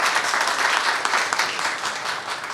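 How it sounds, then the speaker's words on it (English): An audience at a community gathering gives a steady round of applause for a lawyer, dense and fairly loud clapping heard alone without talk. "I think that deserves more applause than that"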